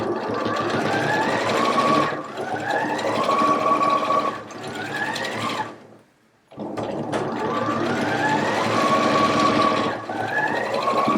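A sewing machine stitching a jacket seam runs in fast, rattling bursts, stopping briefly in the middle before starting again, loud and close.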